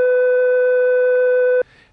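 A telephone off-hook high tone at about 500 hertz sounds loud and steady for about a second and a half, then cuts off abruptly, leaving faint hiss.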